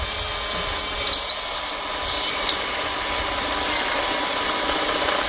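A power drill with a dull bit whining steadily as it bores holes for a hoop house, a continuous high-pitched grinding drone with a few brief clicks early on.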